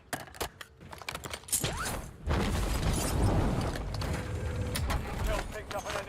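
Weapon magazine reload in Warzone: a flurry of sharp mechanical clicks and clacks, followed by a louder, denser stretch of game noise and rumble, near and prominent.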